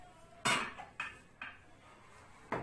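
A cooking pot with rice stuck to its bottom is handled at a kitchen dishwasher, giving four sharp metallic clanks at uneven intervals, close and clear, with short ringing tails.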